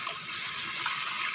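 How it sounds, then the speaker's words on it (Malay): Water poured into a cooking pot holding fish for asam pedas ikan parang, a steady close gush of liquid filling the pot, with no voices. "Lepas tu kita masukkan air."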